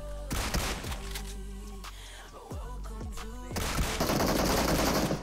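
DBS shotgun fire in the mobile shooter BGMI, with several heavy blasts in close succession over a dense, continuous stream of other in-game gunfire and effects, loud and busy throughout.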